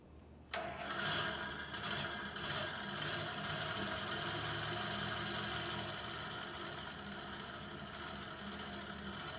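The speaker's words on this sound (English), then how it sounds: "Here's a video of my engine running low idle." An engine fitted with an accessory carburetor starts up abruptly and settles into a steady, rhythmic low idle, with a fast mechanical ticking and knocking, fairly close and unaccompanied by voices.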